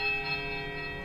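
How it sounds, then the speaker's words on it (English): A sustained ringing bell tone from the video game Pillars of Eternity, steady and resonant with layered overtones, heard alone over about a second. "The bell tolls high piercing note of startling power."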